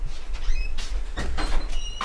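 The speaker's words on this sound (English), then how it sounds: "spooky door sound." A spooky door creaks open and shut in a few drawn-out, squeaky strokes with clattering bumps, loud and close, apparently played as a sound effect during a podcast.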